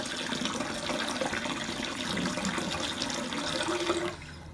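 Tap water runs steadily into a sink, a close, constant splashing rush that cuts off abruptly near the end.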